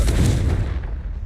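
Confringo blasting spell cast in Hogwarts Legacy, a loud booming blast hitting at once and rumbling away over about a second, heard alone.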